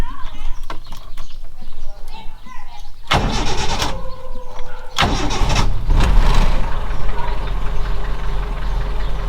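An old vehicle engine being started, bursts of cranking and catching before it settles into a loud, steady idle, with a voice briefly audible.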